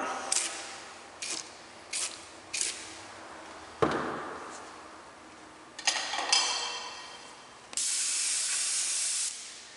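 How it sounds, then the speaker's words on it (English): Black spray paint hisses from an aerosol can onto a surface in a series of short bursts, then one longer continuous spray at the end, close and fairly loud. "This time we're going to spray a little black around it."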